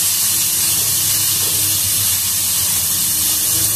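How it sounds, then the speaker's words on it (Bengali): Potatoes fry in hot oil with turmeric and salt, giving a loud, steady, close sizzle that never lets up, with no talk. "হলুদ, আলুটাকে লাল করে ভেজে নেওয়া হবে।"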